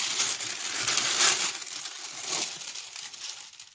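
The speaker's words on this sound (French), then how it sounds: "je vais enlever le papier" Close, loud crinkling and crumpling of paper as wrapping is pulled off, bursts of rustling that gradually soften toward the end.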